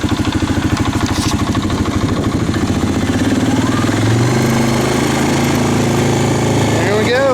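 A Suzuki Vinson 500 ATV engine chugs loudly up close, its rapid thumping pulses steadying and rising in pitch after being kicked into gear, with a voice briefly audible over it.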